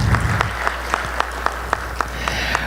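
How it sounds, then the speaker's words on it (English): Sparse applause from an audience after a lecture, a few distinct claps spaced out and fading over a low steady hum, after a brief voice at the start. "Please give all of these folks a round of applause."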